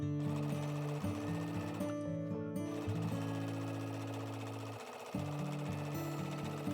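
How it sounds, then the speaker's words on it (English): Sewing machine stitching a quilted makeup-bag panel along a marked line, a steady mechanical hum with rapid needle rhythm running continuously, briefly pausing near the end before resuming; no talking. "Now, sew along the marked center line using a 5mm stitch length."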